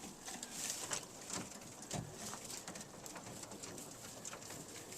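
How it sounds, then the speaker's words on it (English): Young racing pigeons cooing in a loft, a chorus of soft, throaty coos and murmurs from several birds close by, with light fluttering and pattering between calls. "Yeah, they're a nice group of birds here."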